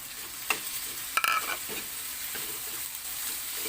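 Pork fries in a pan for adobong sitaw, a soft steady sizzle with a few light scrapes and clinks of stirring. It is close and quiet with no voices.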